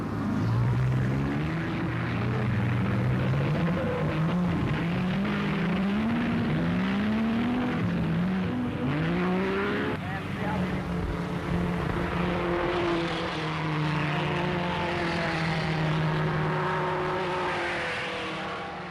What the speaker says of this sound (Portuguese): O som daqueles carros era algo que o público britânico nunca tinha ouvido.